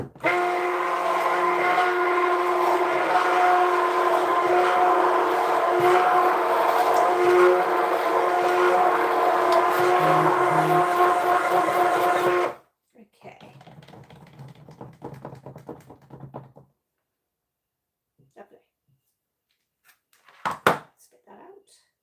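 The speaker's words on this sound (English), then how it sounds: "But the stick blender." An electric stick blender mixes cold process soap batter, a loud, steady, buzzing motor hum that runs for about twelve seconds and then stops, followed by quieter scraping and clatter.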